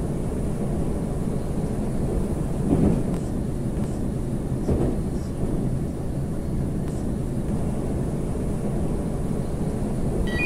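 Moscow metro train on the Nekrasovskaya line, heard from inside the car as a steady loud rumble and roar of wheels on rails with occasional clunks, with no voices.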